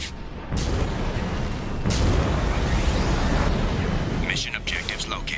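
Guided missile explosions from a fighting vehicle in a video game: a dense, continuous booming roar of blasts lasting several seconds, then bright crackling pops and debris as it fades, with an onboard voice speaking over part of it.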